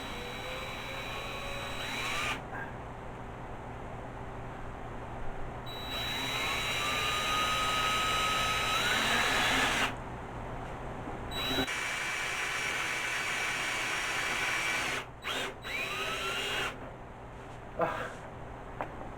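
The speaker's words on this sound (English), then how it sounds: "I'm going to put a self-drilling screw through it to hold it in place" Power drill driving a self-drilling screw, several whining bursts of a few seconds each that rise in pitch, separated by short pauses, moderately close and alone.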